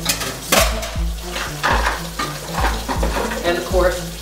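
Small silverware clatters into a kitchen sink filling with hot running water, with repeated metallic clinks at a steady pace over a continuous hiss of running water. No one speaks.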